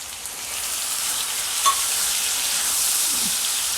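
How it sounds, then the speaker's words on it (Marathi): Tomato purée hits a hot pan for Vidarbha-style stuffed brinjal, giving a bright, even sizzle that holds steadily throughout with one small clink near the middle. "आणि इथे एका टमाटरची प्युरी केली आहे मी ते टाकणार"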